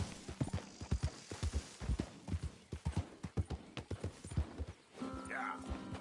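Horse hooves clip-clop at a steady trotting rhythm in Red Dead Redemption 2, close and clear, with a whinny or game sound near the end and a voice speaking briefly.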